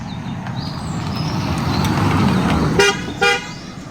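On a narrow hill road near Almora in Uttarakhand, a car passes with a steady engine rumble and road noise, followed by two short horn toots near the end, close by and loud, with no talking.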